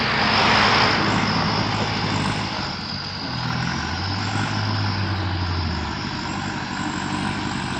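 A tractor engine runs loudly nearby while pushing dirt, giving a steady, heavy rumbling drone that shifts slightly in pitch as it continues.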